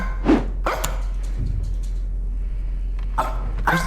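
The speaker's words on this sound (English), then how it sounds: "Dog is barking" Dog barking in the horror video game Supernatural, a few sharp barks at the start and again near the end, loud and close over a steady low hum, no talking.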